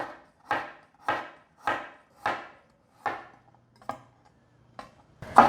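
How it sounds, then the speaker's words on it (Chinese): A knife slices ginger on a cutting board, giving crisp, evenly spaced chops close up: about six steady strokes, then a few lighter, more scattered cuts toward the end. "准备大约10克的姜，把姜切片。"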